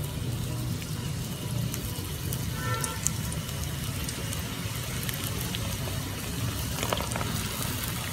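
Chicken samosas deep-frying in hot oil over a high-to-medium gas flame, a continuous dense bubbling crackle at even loudness, with a few faint clicks on top.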